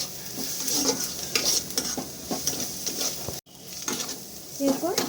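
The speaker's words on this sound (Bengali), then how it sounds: "এগুলো সব ভালো করে মিক্স করে নেব" Cumin, coriander and chili powder stirred into a mixture in a frying pan, with a gentle sizzle under repeated scraping and clinking strokes of a spoon, close, with a brief cut partway through.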